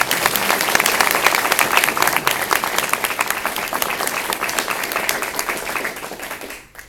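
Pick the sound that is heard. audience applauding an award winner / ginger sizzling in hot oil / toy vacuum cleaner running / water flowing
audience applauding an award winner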